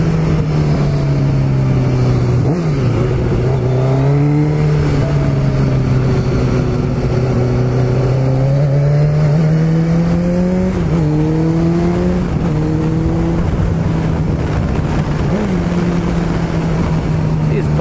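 Kawasaki ZXR 750 sport motorcycle engine while riding: a loud, steady drone whose pitch climbs and drops repeatedly through gear changes, with constant wind rush behind it.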